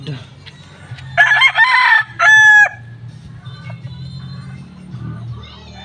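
A nearby fighting rooster gives two loud crowing bursts in quick succession, followed by softer farmyard background noise with faint distant calls.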